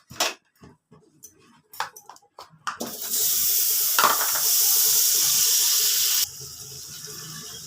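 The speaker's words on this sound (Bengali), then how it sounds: "বাটারটা গরম হয়ে গেছে, রসুনটা দিয়ে দিলাম।" Garlic dropped into hot butter in a pan for a paneer paratha filling, a few light clinks and taps first, then a sudden loud, steady hiss of sizzling that holds for several seconds before dropping to a softer sizzle.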